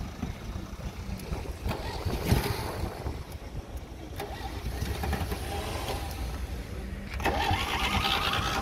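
An old car engine turns over and catches, then runs with a rough, uneven rumble under outdoor wind noise, staying moderately close throughout.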